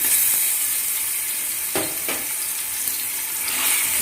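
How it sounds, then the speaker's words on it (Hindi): Ginger garlic paste frying with browned onions in a pot for Pakistani mutton biryani, giving a steady, close, loud sizzle with a few sharper crackles and no talking. "अब जिंजर गार्लिक का पेस्ट डाल देंगे।"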